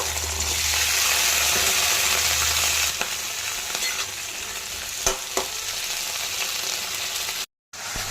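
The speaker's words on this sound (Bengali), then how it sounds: "কড়াইয়ে তেল গরম হয়ে গেছে, এবারে আমি ভেন্ডিগুলো প্রথমে ভেজে নেব" Whole okra frying in hot oil in a wok, a loud steady sizzle close by with stirring scrapes and a few sharp knocks, ending in a brief cut to silence, no voices.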